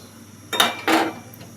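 A metal lid goes onto a pot of simmering fish curry with potato and eggplant, two quick clanks close by, the second one longer and rattling, in an otherwise quiet kitchen.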